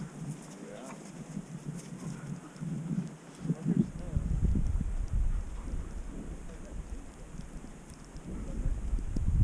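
Thunder rumbles during a horseback ride in the mountains, a low rolling roll that swells and builds over several seconds under background noise, with people talking nearby.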